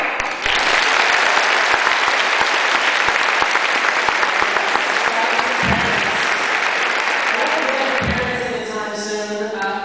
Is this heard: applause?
yes